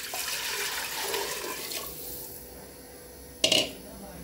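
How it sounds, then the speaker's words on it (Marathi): Water is poured into a cooker pot already holding a little oil, about three times the volume of maize grits, for a traditional sour maize-grit rice dish; a steady rushing pour runs about two seconds, followed later by a brief clatter. "आपण कण्याच्या तिप्पट पाणी जे घेतलं होतं ते ओतणार आहे"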